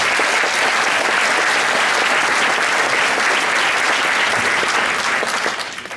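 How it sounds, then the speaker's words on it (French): A large audience at a concert gives warm, loud applause for the guests of honour, dense continuous clapping that holds strong for several seconds before tapering off at the end. "Quelques applaudissements chaleureux pour nos invités d'honneur."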